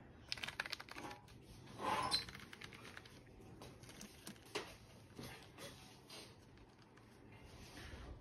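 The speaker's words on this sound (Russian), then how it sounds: "Тест клавиатуры проведем сразу же." Keys on a Maibenben laptop keyboard fitted with a silicone overlay are tapped in quick, uneven bursts of soft clicks, heard close up and fairly quiet with short pauses between runs.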